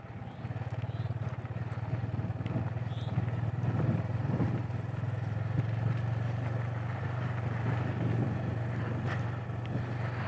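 A motorcycle rides in third gear along an off-road route through traffic, its steady engine drone up close with wind buffeting the microphone throughout.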